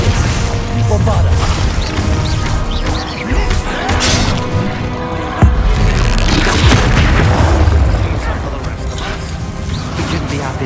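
Bombarda blasts go off during a chaotic troll battle in Hogwarts Legacy, repeated booms and crashes layered with game music and shouted voices, loud and dense throughout.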